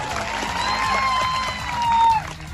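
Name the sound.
crowd applauding at a political rally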